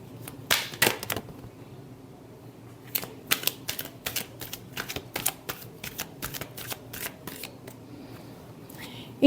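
Tarot cards being shuffled close by: a quick run of crisp papery snaps and riffles in irregular bursts, with quiet gaps between and no talking.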